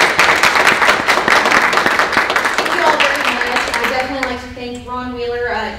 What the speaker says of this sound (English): I think we need applause for the questioners.